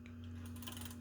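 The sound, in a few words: ribbon advance mechanism of 1912 Harris Visible No.4 typewriter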